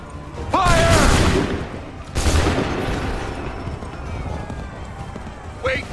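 Musket volley gunfire in the Assassin's Creed 3 video game: a loud burst of shots followed by a second volley, with shouted voices over it and battlefield commotion trailing off.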